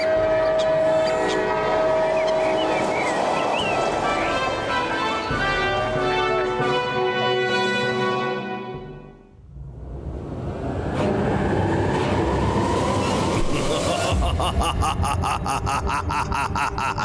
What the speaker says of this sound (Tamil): ஃப்ளையிங் ட்ரெயின்ல நானும் இப்பதான் ஃபர்ஸ்ட் டைம் வரேன்